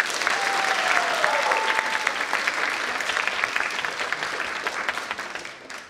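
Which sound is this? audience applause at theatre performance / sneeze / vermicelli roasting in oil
audience applause at theatre performance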